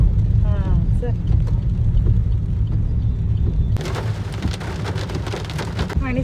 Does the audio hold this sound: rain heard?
yes